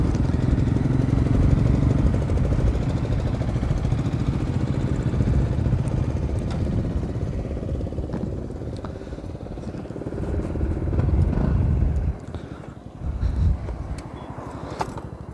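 A Bajaj Pulsar RS200 motorcycle is ridden with a steady, loud engine drone mixed with wind rush. Near the end the sound swells, then drops with a few uneven bumps, and no speech is heard.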